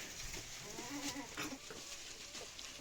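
A few short goat bleats amid quiet barn ambience, faint and somewhat distant.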